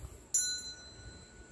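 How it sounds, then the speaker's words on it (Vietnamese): A small hand bell used for offerings gives a single bright ring that fades into a long, thin, shimmering decay. It sounds alone and close in a quiet room. "Và đây là cái chuông."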